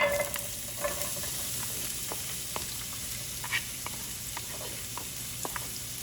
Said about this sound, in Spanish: Vamos a empezar agregando un poco de aceite de oliva en un sartén que ya está caliente. Y vamos a agregar la cebolla picada.